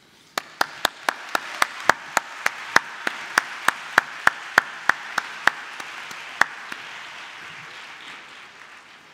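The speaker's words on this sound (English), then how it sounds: "let me ask everyone to give a warm round of applause to thank our band" Sharp, evenly spaced claps ring out about twenty times in a slow steady rhythm over a faint crowd wash, a ceremony audience thanking a jazz quintet band, each hit loud and distinct.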